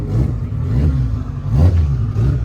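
An Infiniti G35 with dual exhaust rumbles at a car show, its engine revved in a few short blips over a deep, steady idle, close and loud.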